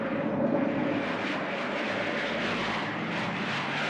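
A fixed-wing airplane engine roars steadily on an airfield in an action film, a loud, continuous broadband drone that stays even throughout without pause.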